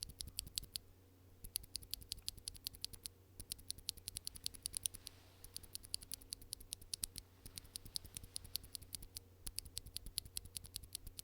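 Unlubed NovelKeys Cream linear mechanical keyboard switches are typed on in quick, irregular bursts, each keystroke a sharp, close plastic clack with a faint springy rattle, over a quiet room hum and no talk.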